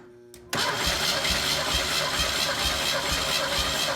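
A 1984 Pontiac Fiero engine cranks over on the starter during a compression test of cylinder three, a steady rhythmic chugging that kicks in abruptly after a quiet moment and holds loud and even to the end.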